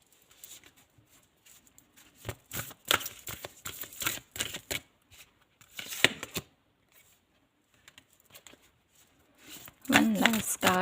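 Tarot cards are shuffled and drawn up close, giving soft papery riffles and taps in irregular bursts. Brief quiet speech comes in near the end.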